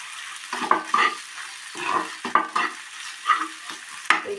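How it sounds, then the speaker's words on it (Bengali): Onion, ginger and garlic frying in a pan, stirred now and then: a steady close sizzle broken by irregular scraping strokes of a spatula, moderately loud, with no voices. "বন্ধুরা, পেঁয়াজ আদা রসুনটা আমার ভাজা ভাজা হয়ে গেছে।"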